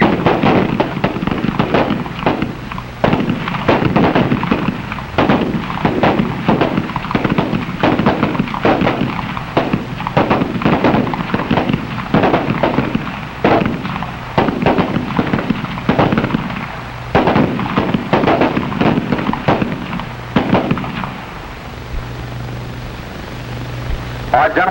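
Shooters on an FBI firing range fire rapidly and continuously, loud sharp gunshots overlapping in dense volleys for about twenty seconds before thinning out, with a voice talking underneath.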